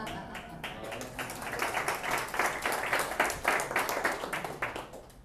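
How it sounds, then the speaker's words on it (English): Audience applause at a live networking presentation, a burst of many hands clapping that builds to a dense, lively peak before tapering off, fairly close and filling the room. "Clap, clap."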